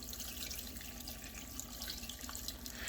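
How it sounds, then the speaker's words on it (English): Water running from a kitchen tap into a jug or pot, a faint, steady hiss and patter that holds level throughout with nothing else over it. "Alright, now we need to start adding the water."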